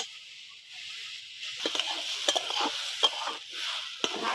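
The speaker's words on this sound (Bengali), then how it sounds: "শাকটা এবার এইভাবে নাড়াচাড়া দিয়ে করি ভাজি নিবা" Water spinach is stir-fried in a pan, with a soft steady sizzle and repeated scraping strokes of a spatula turning the greens, close and fairly quiet without talk.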